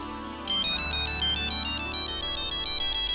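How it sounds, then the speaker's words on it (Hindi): A phone ringtone starts and plays loudly as a steady, repeating electronic melody over a low background hum. "हेमू का फोन है।"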